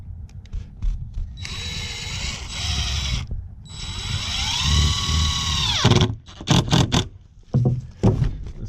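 A power drill drives a long deck screw into wood while building deck railing, two sustained whirring runs with the pitch dropping under load, ending abruptly, followed by short bursts and clunks.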